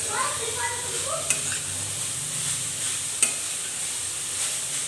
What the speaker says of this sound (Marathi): गाजर आधी 2-3 मिनिटांसाठी छान असं परतून घ्यायचं आहे।